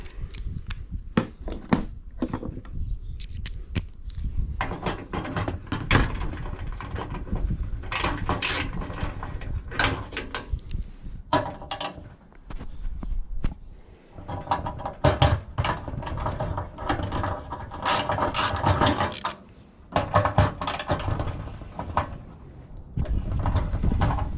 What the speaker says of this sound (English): we will need to take our number 7 socket, attach it to our ratchet and extension, and remove these plates